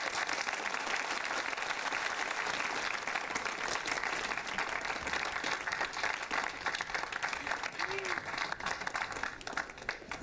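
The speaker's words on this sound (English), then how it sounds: "Join me in applauding Simone Hayes" Audience at an honors ceremony applauds continuously, a broad wash of clapping held at an even level throughout, with faint voices mixed underneath.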